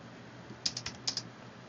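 A computer keyboard gives a few quick, faint key taps in two small clusters to copy and paste a link, in an otherwise quiet room.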